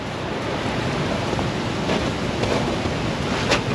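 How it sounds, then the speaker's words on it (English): Water in a major Alaskan creek rushes steadily beneath an old timber bridge in a wintry landscape, a loud, dense, continuous roar with no pauses. "Alaskan creek."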